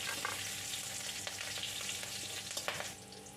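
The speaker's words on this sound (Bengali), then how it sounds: "এই ফোড়নটা দেওয়ার পর আমি একটু কিছুক্ষণ নেড়ে চেড়ে নিলাম।" Black cumin, bay leaf, dried red chillies and green chillies sizzle in hot oil as they are stirred, with a steady crackling fry and a few sharp scrapes of the spoon, close and moderately quiet, with no talking.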